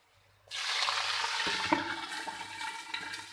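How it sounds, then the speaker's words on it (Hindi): Water pours steadily into a cooking pot of browned onions for chicken pulao, with a rushing, splashing hiss after a brief quiet start, with a few clinks of metal partway through. "अब हम इसमें पानी शामिल कर देंगे।"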